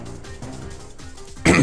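A man with a cold clears his throat once, a short rough burst at close range right at the end after a stretch of quiet background game sound.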